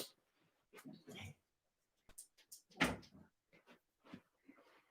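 A door swings shut with one sharp thump in the middle, surrounded by softer rustles, shuffling and faint movement in a quiet room.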